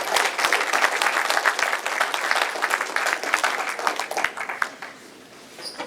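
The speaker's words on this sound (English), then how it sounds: "Just give Danny a round of applause" Sustained applause from a large audience at a sports hall of fame banquet, dense and even, gradually tapering off toward the end.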